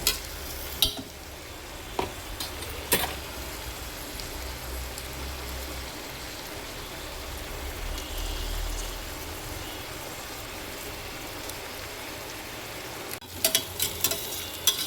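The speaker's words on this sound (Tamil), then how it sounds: "நல்ல வெங்காயத்தை நல்ல கோல்டன் ப்ரௌனாக வர வரைக்கும் நல்லா கொஞ்சம் நேரம்" Onions frying in a pan until golden brown for chicken biryani, a steady close sizzle with occasional scrapes and knocks of a stirring spoon at the start and end.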